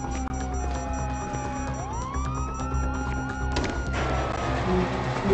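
Wailing police sirens in the video game GTA 5 rise and fall over a low engine rumble, fairly loud and close, with several sirens overlapping.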